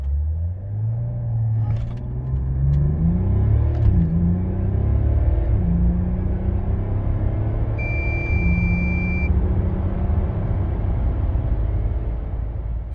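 A Mercedes S 400d L 4Matic with a 3.0 inline-six diesel accelerates hard from a standstill to 100 km/h, its deep engine drone rising through several gear changes in a loud, steady cabin rumble with no talk.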